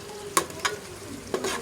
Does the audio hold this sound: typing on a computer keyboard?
no